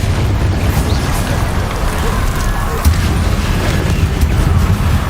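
A spell explosion from Hogwarts Legacy booms and rumbles continuously, a loud dense roar of blasts and debris sustained for several seconds, with a voice faintly mixed in.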